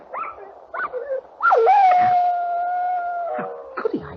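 Dog howl as a radio drama sound effect: a few short whining yelps, then a long sustained mournful howl that slowly falls in pitch, followed by brief whimpers, fairly close and alone.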